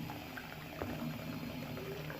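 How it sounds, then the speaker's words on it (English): Water poured onto a potted plant rescued from a thrift store, a quiet steady trickle and bubbling soak into the soil, heard close and alone. "We'll just give him a little bit of water here."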